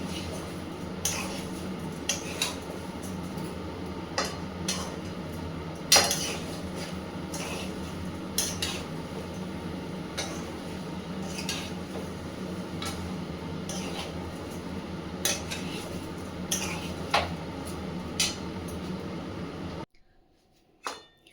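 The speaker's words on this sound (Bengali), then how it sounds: "এবার কিন্তু চিনিটাকে আমি সমানেই নাড়তে হবে যাতে না লেগে যায় চিনিটা" Melting sugar for mango pickle is stirred in a pan, with light clinks and scrapes of a spoon against metal recurring irregularly over a steady low background hum.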